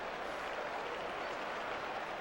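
A virtual baseball crowd in MLB 11 The Show keeps up a steady, even roar of cheering and applause, a dense wash of noise with no distinct peaks, unbroken by talk.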